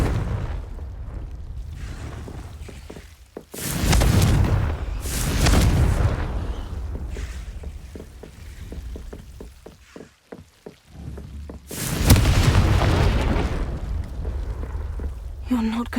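Repeated Confringo fire spells explode in Hogwarts Legacy, two heavy booming blasts early and another near the end, with crackling debris and rumble between them.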